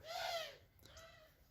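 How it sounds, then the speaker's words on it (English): A bird calls outdoors with two short, faint hooting notes, the first fuller and the second thinner and trailing, heard alone against a quiet background. "Birds."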